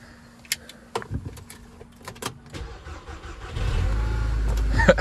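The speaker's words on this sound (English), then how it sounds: "All right, let's do a little cold start then," A Ford Focus RS Mk3 on its stock exhaust cold-starts after several clicks and clunks from the cabin, firing into a rising, muffled engine roar in the last second and a half.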